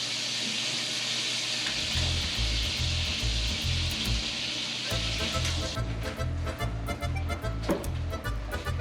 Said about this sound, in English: So as you can see, we got that oil and butter mixed up. So let's start frying these off.